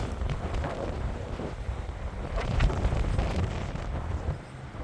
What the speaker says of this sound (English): Got some wind today. Wind's picked up.